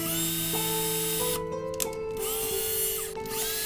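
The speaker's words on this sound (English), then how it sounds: "I drill some holes in the base to help really secure them to the base." A small drill bores holes into a clay diorama base, its steady whirring motor shifting pitch as it bites in, with a couple of brief pauses and restarts, moderately loud and close.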